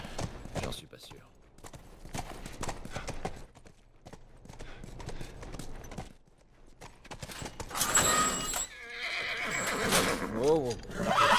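A horse whinnies loudly amid clip-clopping hooves and game ambience in The Last of Us, with a voice talking over parts of it.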